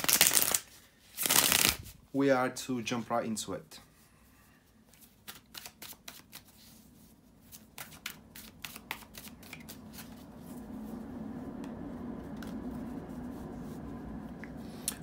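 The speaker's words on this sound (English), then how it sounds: "bear with me just a second, guys, to shuffle the tarot cards" Tarot cards are shuffled by hand in crisp riffling bursts, close and loud at first, then softer repeated flicks and slides, with brief speech near the start.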